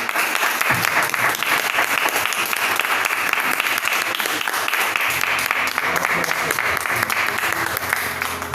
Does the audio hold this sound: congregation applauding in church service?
yes